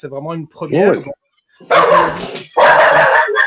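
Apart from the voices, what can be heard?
dog barking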